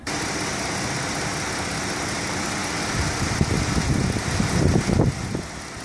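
A 2016 Dodge Caravan SE's 3.6-liter V6 engine, with 51,000 miles, idling with a steady low rumble, then a few seconds of rougher, louder pulsing before settling back to idle.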